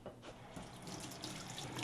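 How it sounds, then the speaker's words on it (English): Warm tap water runs steadily into a sink during a deep hand scrub, a continuous close splashing hiss that holds for the full stretch. "Wash your hands."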